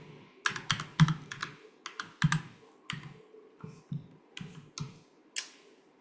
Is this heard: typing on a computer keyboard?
yes